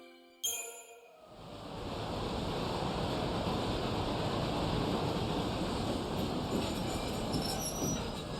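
A train in the video game Lightning Returns rolls along with a steady, loud rumbling roar that builds after a brief musical chime at the start and holds continuously to the end, with no talk.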